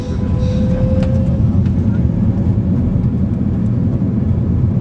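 An airplane at Cairo airport begins its takeoff roll, heard from inside as a loud, steady, dense engine roar and rumble that fills the cabin without pause.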